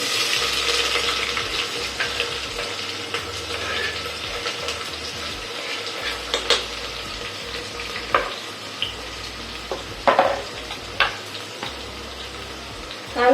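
Onion stirred and fried in oil for a matar pulao, a continuous sizzle with scattered clinks and scrapes of the spoon against the pan, growing busier toward the end, close and unaccompanied by talk.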